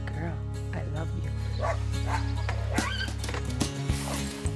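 A Dalmatian barks several times at close range over a steady droning hum, with people talking around the barks.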